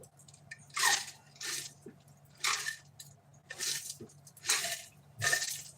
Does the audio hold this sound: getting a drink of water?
yes